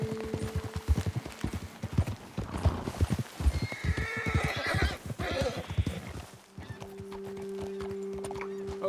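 Horses in the Red Dead Redemption 2 video game clop along with steady hoofbeats and let out a loud whinny midway, with riders talking over the sounds.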